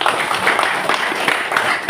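An audience claps at a political rally backing regional election candidates in Tabanan, Bali, a short burst of brisk, scattered applause close and fairly loud.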